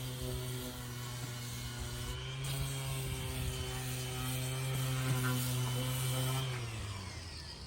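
A power sander works a rust line off the wooden trim of an Irwin sailboat, giving a steady, loud droning buzz with a strong low hum that runs unbroken and alone for several seconds before easing off.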